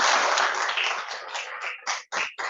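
Applause from an audience at a closing and opening ceremony for a training year, a brief, fairly loud burst of clapping that thins out into a few scattered separate bursts at the end.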